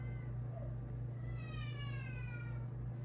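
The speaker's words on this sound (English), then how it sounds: "I don't know if you can hear the kid crying in there" A child cries in another room, a faint, distant wavering wail that rises and falls over a steady low electrical hum.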